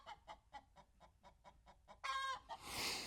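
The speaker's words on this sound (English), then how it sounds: "This is the sound that chickens make when they lay eggs, by the way." A hen clucks in a steady, evenly spaced run of close calls while laying an egg, then breaks into a louder, rising squawk that ends in a rush of noisy rustling.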